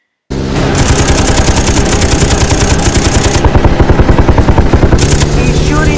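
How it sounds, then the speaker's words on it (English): Rapid automatic gunfire in a superhero battle scene, sustained loud bursts of shots starting abruptly after a brief silence and continuing with a fast rhythmic rattle throughout. "He's shooting at me!"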